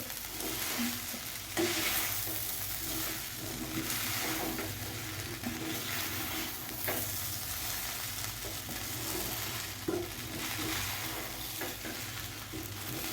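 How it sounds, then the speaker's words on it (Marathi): Sabudana khichdi stirred from the bottom of a pan, a steady scraping, sizzling churn close up with soft clinks, continuous and alone without talk. "छान याला असं बुडापासून मिक्स करून घ्यायचंय"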